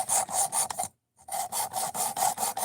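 Knife blade drawn in steady repeated strokes across a sharpening plate, a close rasping scrape in rhythmic passes with a brief pause partway through.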